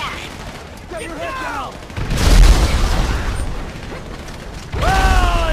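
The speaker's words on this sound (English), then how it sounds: "This grenade will do though." A grenade explosion in the game GTA V lands as a deep, sustained boom rolling over a couple of seconds, framed by whooshing, whining effects before and after.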